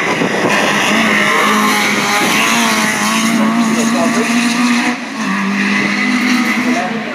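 Rally cars at Cadwell Park race through the chicane with loud, sustained engine roar and shifting revs, tyres squealing, while commentary talk runs continuously over the noise.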